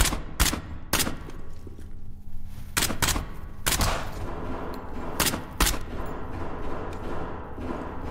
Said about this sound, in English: There's people shooting down there.